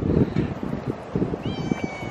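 A cat outdoors on a chilly day meows close by, a short plaintive call over a background of rustling and low noise.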